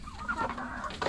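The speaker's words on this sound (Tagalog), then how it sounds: "Ito na naman ang ating mga manok." Chickens cluck softly nearby in short bursts, a low, busy farmyard murmur with no voices.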